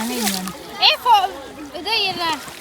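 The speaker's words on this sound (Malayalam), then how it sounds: "എല്ലാവരും ഒരുവിധം എല്ലാവരും വെള്ളത്തിൽ ഇറങ്ങി." People wading into a fast-flowing river on a family outing make a few short splashes that break through lively children's chatter and other voices close by.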